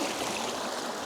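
River water rushes steadily in a broad, close hiss in a snowy wild-camping setting, with no voices.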